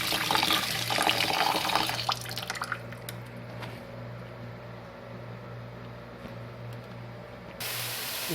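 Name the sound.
tap water running while washing rice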